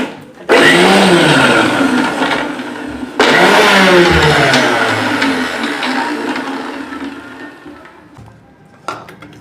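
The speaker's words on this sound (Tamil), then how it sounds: "கடலைப்பருப்பு துவரம்பருப்பு ஊறிட்டு இப்போ அதை அரைக்க போகிறோம்" A mixer grinder grinding soaked chana dal and toor dal runs in two loud bursts, each spinning up with a rising whine and then a churning roar that gradually eases, ending with a brief clatter.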